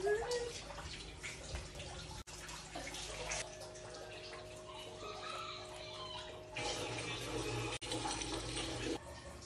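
Water splashes and pours as shorts are rinsed by hand, a fairly quiet, continuous watery wash with brief breaks and shifting intensity.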